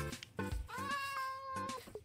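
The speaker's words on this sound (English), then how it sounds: "There's a cat." A cat in the Minecraft video game meows, one long drawn-out, rising-and-falling call close up, set among short scattered game blips and clicks.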